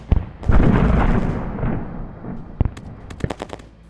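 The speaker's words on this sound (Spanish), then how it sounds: "consiguieron no solo escuchar el extraño estruendo que provenía del pozo, sino también múltiples disparos e incluso explosiones." Sound effect of gunfire and explosions: a heavy boom and rolling blast fill the first half, fading into a rumble, then sharp separate gunshots crack in a quick uneven cluster near the end.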